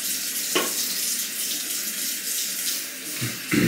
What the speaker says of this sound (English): tiny stream of water in the sink